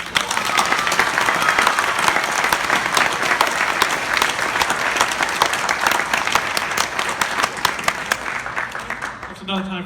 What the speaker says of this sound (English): I think we should just give him a good round of applause.